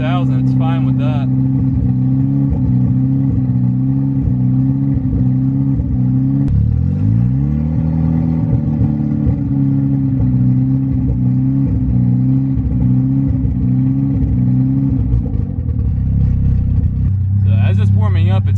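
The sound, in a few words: MK6 Golf R engine revving, stuttering as it warms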